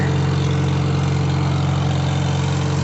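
An International Harvester IH 120 mower engine runs in third gear with a steady, close, droning hum that holds constant throughout, with no talking.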